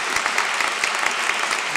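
Steady applause from a crowd, dense clapping with sharper individual claps standing out, fairly close and sustained throughout.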